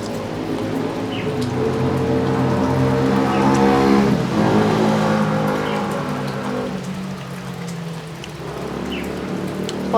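Rain falling steadily on a surface on a rainy evening, a dense continuous patter with a vehicle passing through, engine hum rising and fading beneath the downpour.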